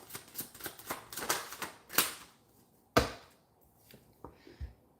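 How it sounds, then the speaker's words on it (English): Tarot cards are shuffled by hand in a run of quick riffling bursts. Each soft, papery flutter is close and fairly quiet, followed by a few isolated taps and pauses, with no talking. "Let me finish this shuffle"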